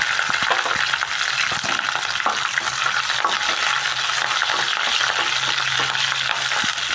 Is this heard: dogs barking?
no